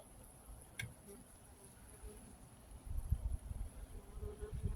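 Faint honey bee buzzing at a hive entrance drifts through a quiet outdoor scene, with soft low rumbles and light knocks rising toward the end.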